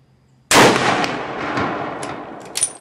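A single loud .270 rifle shot fired with a Handi-Cuff recoil device cracks sharply after a moment of quiet, then rolls away in a long decaying echo with a small clatter at the end.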